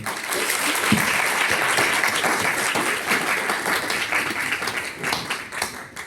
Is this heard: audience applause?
yes